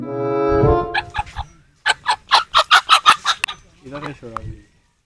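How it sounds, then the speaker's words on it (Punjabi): A rooster close by gives a series of loud, rhythmic clucks and calls, about eight sharp bursts in a row, with a drawn-out crowing note at the start and a few softer clucks at the end. "ਆ ਸੀਲ ਕੁੱਕੜ ਕਿਹਦਾ ਬਈ?"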